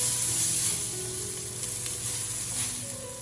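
Chopped onions hit hot oil already holding crushed ginger and garlic, sizzling and frying in a steady close hiss with faint stirring scrapes, no voices.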